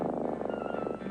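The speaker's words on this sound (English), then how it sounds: "Now that's the sound of a healthy cat." A content, healthy cat purrs steadily in a low rhythmic rumble, close and alone, with pulsing breaths running through the whole stretch.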